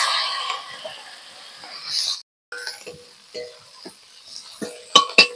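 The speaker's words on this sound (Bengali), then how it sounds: "এবার এই তেলেই আমি যে খোসাগুলো রেখেছিলাম এই খোসাগুলো ভেজে নেব" Jackfruit peels frying in oil in the same oil just used for frying fish, with a soft hiss and crackle of frying broken by scattered stirring clinks and sharp utensil taps, fairly close.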